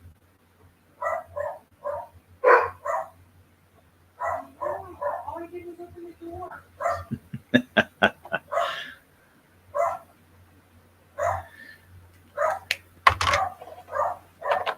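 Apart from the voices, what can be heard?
dogs barking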